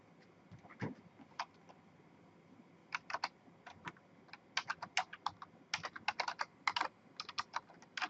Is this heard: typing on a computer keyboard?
yes